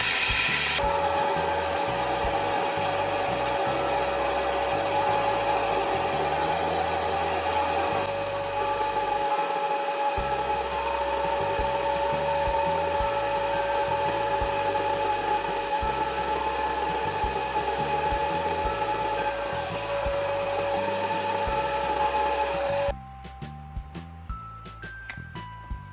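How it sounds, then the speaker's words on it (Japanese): A milling machine drills holes in wood as part of knifemaking, a steady high motor whine running with rhythmic grinding and cutting for over twenty seconds before stopping and leaving faint clicks. "フライス板で穴を開けます。"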